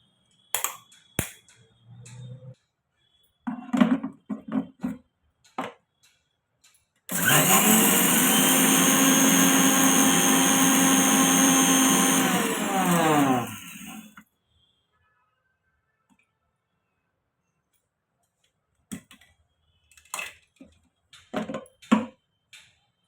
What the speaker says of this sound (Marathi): हे मिक्सरला लावून फिरवून घेऊया.